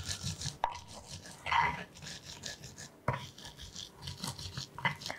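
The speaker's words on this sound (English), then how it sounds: "Grind the peanut until as smooth as you can." Peanuts ground by hand in a mortar and pestle, giving scattered rubbing and scraping strokes with a few sharper knocks. The strokes are irregular and close.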